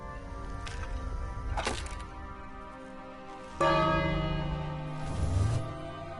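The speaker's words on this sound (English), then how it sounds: "Ring the bell." A bell rings in the King's Quest video game, with struck tones swelling over a sustained ringing backdrop, the loudest strike midway and another swell near the end.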